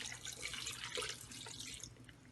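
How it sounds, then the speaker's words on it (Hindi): Two cups of water are poured into a cooking pot of oil and dry spices for Hyderabadi daalcha. A quiet, splashing pour rises and then fades over a couple of seconds, with no voices. "और 2 कप पानी डालेंगे।"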